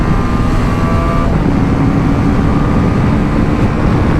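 A BMW 310 GS motorcycle runs at speed with a steady, loud engine drone mixed with rushing wind, with no let-up throughout.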